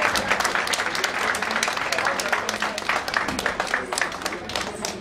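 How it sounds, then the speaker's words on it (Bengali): Enthusiastic audience applause at a Mother's Day event run by Saha Textile: a dense, loud burst of clapping that carries on steadily for several seconds. "একটু জোরে করতালি সবাই।"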